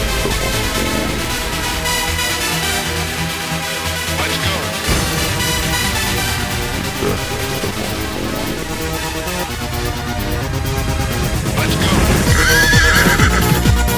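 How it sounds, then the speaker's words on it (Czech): A horse neighs and whinnies loudly while hooves clip-clop steadily underneath, close and continuous, with a person's voice mixed in during an outdoor expedition ride. "Jedu na koni!"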